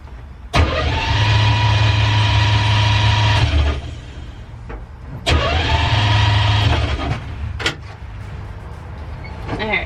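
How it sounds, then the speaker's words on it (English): Starter cranking a 1969 Jeep M715 engine with the ignition switched off, two long loud whirring bursts of several seconds each, separated by a pause with no firing. "first I like to start it without the ignition switched on"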